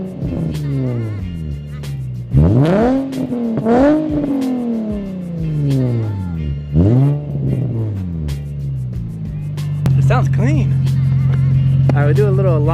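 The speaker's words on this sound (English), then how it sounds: "Do a little exhaust test so you guys can hear it." A Nissan 350Z exhaust revs up sharply several times, each burst rising and falling, then settles into a loud steady idle near the end.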